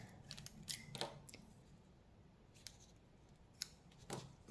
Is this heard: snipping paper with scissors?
yes